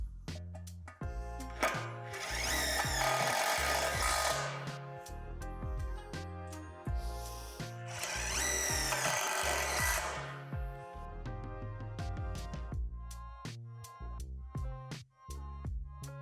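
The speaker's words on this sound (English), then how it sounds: "Secure the poles together by adding the self-tapping screws into the other small holes." A power drill drives self-tapping screws into the poles of a portable basketball system in two sustained whirring bursts, fairly faint, with tapping and handling noises around them.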